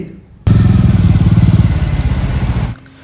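A motorcycle engine roars loud and close for a couple of seconds at night, a steady throbbing drone that cuts in abruptly and then drops away.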